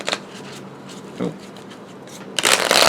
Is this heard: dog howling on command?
no